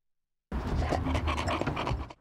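A rescue dog in training pants rapidly and close by, a breathy, rhythmic panting that starts abruptly and continues steadily for under two seconds.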